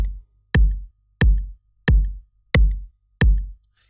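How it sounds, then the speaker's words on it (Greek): A metronome ticks five times at an even, steady pace, each click sharp and punchy with a short decaying thump, with silence between beats. "μπορείτε να ενεργοποιήσετε εδώ δίπλα στα BPM τον μετρονόμο"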